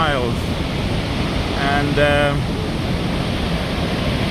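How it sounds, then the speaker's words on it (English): Victoria Falls in Zambia roars as a steady, broad rush of falling water filling the background, with a brief spoken word heard over it. "So that's all the waters are falling down, creating a huge amount of clouds which can be seen from miles."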